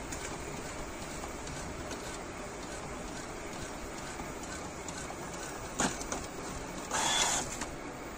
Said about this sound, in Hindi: देख सकते हैं प्रिंट आउट निकल रहा है।